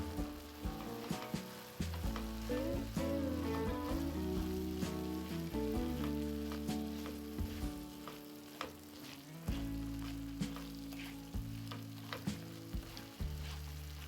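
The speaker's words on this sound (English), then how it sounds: "Once the beef is browned" Ground beef browns in a pan seasoned with salt, black pepper, oregano and paprika, giving a steady close sizzle and fry with stirring clatter, backed by continuous music-like tonal layers.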